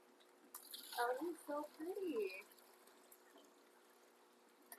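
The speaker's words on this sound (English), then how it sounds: "So first thing I'll do is get some water in there." Water is poured into an aquarium, pouring and gurgling in short bursts for about two seconds, then fading to a quiet hiss.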